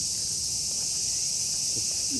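Many crickets chirp in a steady, dense high-pitched drone on an outdoor afternoon by a palace wall in Tokyo, loud and continuous with faint scattered sounds underneath.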